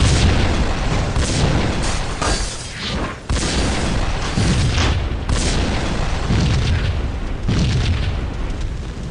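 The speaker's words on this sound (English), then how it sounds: "It's a rocket launcher. It's a rocket launcher, bro." Rocket launcher blasts in the video game Max Payne, a dense run of deep booming explosions rolling into one another, loud and close, with a brief lull near the middle and no talk over them.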